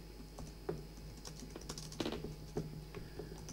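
Code being typed on a computer keyboard: a steady patter of quiet, close key clicks with a few louder keystrokes, no voice over it.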